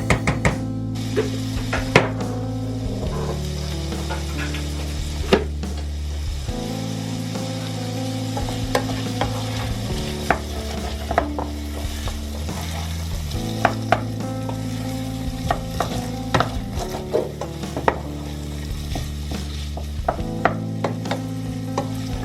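Chopped vegetables for a chicken soup with vermicelli sizzle and fry in a pan, a spoon stirring and scraping now and then against a steady background hum, with no talking.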